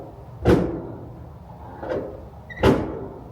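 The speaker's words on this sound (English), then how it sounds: "By far the noisiest door." A 1967 Plymouth car door creaks and thumps three times, one loud clunk, a softer knock, then another solid slam, with quiet pauses between.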